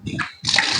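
Tap water splashes in two short bursts as hands are rinsed at a home sink, close and clear with a brief gap between the gushes.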